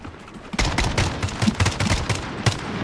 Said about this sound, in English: I'll put some suppressive down there, Caleb.